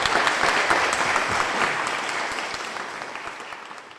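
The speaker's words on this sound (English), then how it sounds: "All right, round of applause for Ryan." Audience applause for a speaker at a mobile user testing meetup: steady, dense clapping from a room of people that holds loud at first, then slowly thins and fades across four seconds, with no talking.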